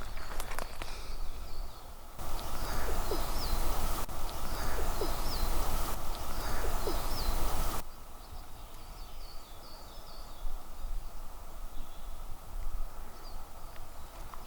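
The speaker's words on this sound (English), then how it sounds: "Listen to that wonderful bird song." Birds call and chirp in the background over a steady outdoor hiss, with repeated short songs scattered throughout.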